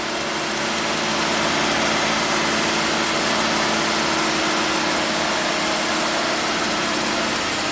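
A 1967 Triumph GT6 sits idling close by, its engine holding a steady, even broadband drone with a faint low-pitched pulse, loud and unbroken, with no one talking.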